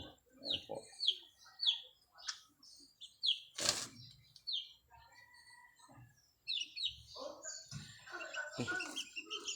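Two-week-old chicks chirp in a series of repeated high, thin peeps, fairly close but soft, with scattered rustling, clucks and a brief louder noise in between.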